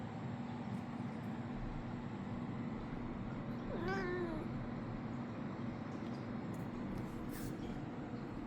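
A pet cat gives a single short meow at mid-clip, faint against steady background noise indoors.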